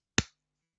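One sharp, close hand clap or snap cracks once and decays quickly into silence, given by a tabletop game player mocking bad dice luck.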